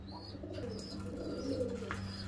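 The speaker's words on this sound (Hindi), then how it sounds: "मेरे हाथ में ये कबूतर आप देख रहे हैं" Pigeons coo softly at a Dubai pigeon club, low murmuring calls with a few brief chirps over a steady hum, fairly quiet and close, no talk.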